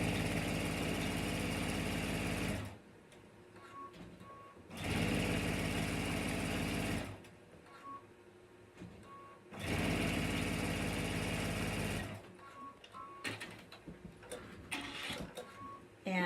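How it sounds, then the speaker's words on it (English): Sewing machine stitching quilting fabric, loud whirring bursts of about two seconds each, three times, separated by quieter stretches of handling noise and light clicks. "So I'm just going to take this over to my machine and I'm going to sew."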